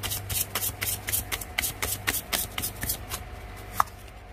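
Tarot cards are shuffled by hand in a steady run of soft, crisp riffling flutters, close and fairly quiet, with no talking.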